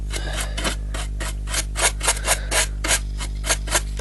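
Abrasive sanding strokes rasp back and forth across a model locomotive body shell, about a dozen rhythmic rubs, close up over a constant low hum.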